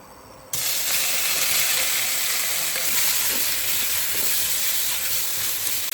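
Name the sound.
marinated beef stir frying in hot pan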